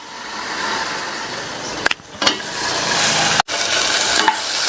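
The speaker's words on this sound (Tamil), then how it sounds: "இது கூட கொஞ்சமா கல்லுப்பு சேர்த்து வதக்கிக்கலாம். தக்காளி ஓரளவு வதங்கி வரட்டும்." Tomatoes sizzle in a pan with rock salt, a close, steady frying hiss broken by a couple of stirring scrapes and brief pauses.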